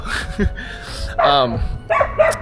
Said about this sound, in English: these dogs are freaking annoying as hell